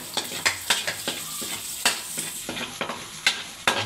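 Garlic sizzles in a pan of Bicol Express as it is stirred, a steady frying hiss broken by repeated sharp scrapes and clicks of a utensil against the pan, close up with no talking.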